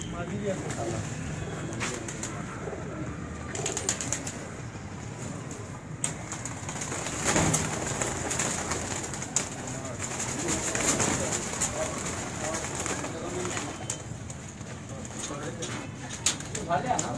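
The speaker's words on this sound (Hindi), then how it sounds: "उनके घर का ये भी एक ब्रीडर कबूतर है।" Breeder pigeons coo repeatedly at close range on a rooftop, soft throaty calls recurring over a noisy background with occasional rustles and a person speaking now and then.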